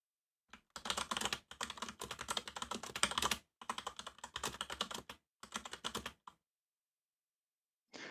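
Fast, intense typing on a computer keyboard in bursts of rapid clicking, close and fairly loud, with short pauses between runs and a quiet stop near the end.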